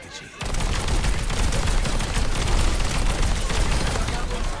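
Rapid, continuous automatic fire from the Siphon Blaster of the hero Emre in the Overwatch video game, starting abruptly and rattling on loud and dense without a break.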